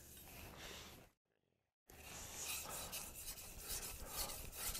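A kitchen knife is scraped back and forth on a wet synthetic 1000 grit whetstone, a close, gritty rasping that stops for under a second of near silence, then resumes with rhythmic strokes.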